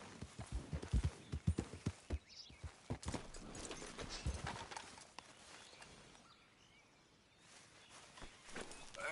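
Horse hooves in Red Dead Redemption 2, a close, rhythmic clip-clop of trotting that is strongest early on, then softens and thins out before picking up again faintly at the end.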